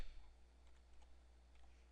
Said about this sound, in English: then we'll type in